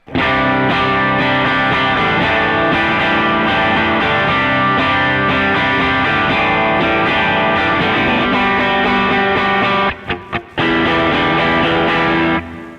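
Overdriven electric guitar through a 1968 Fender Twin Reverb amp capture plays loud, sustained distorted chords and riffs, ringing dense and continuous with a couple of brief choked stops near the end.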